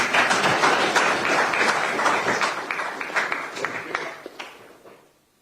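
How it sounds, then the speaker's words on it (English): Audience applauding at a live event, dense sustained clapping that swells, then thins out and fades to quiet near the end. "A bigger round of applause for him."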